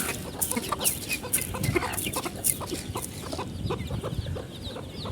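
Backyard hens, including a mother hen with chicks, cluck and chatter close by in a busy, overlapping stream of short calls, with scattered peeps and scratching and no talk.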